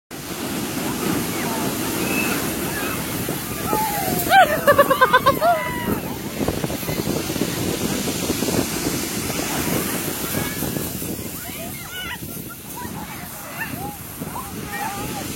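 Sea waves wash against the beach near Durdle Door in a steady, rushing surge. People chatter and call out over the surf, and wind buffets the microphone.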